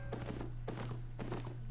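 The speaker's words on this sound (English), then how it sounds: "I'm riding around on my horse." Horse hooves clip-clop in the Albion Online video game, a steady run of soft hoofbeats over a constant low hum, with no talking.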